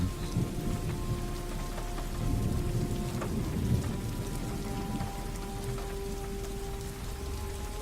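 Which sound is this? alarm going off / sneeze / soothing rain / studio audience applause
soothing rain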